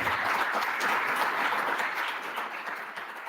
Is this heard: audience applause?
yes